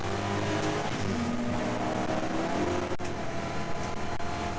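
A BMW E30 race car engine at Hampton Downs, heard onboard and running rough, drones loud and steady with a slightly uneven, strained note.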